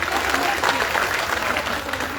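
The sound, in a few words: audience applause for journalists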